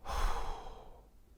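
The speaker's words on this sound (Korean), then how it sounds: "자, 들이마시고 내쉬고 들이마시고 내쉬고" A single slow breath in an abdominal breathing exercise for voice training, close and soft, rising then fading out, heard alone without talk.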